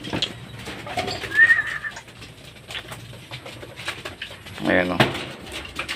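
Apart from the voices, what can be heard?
racing pigeons cooing on arrival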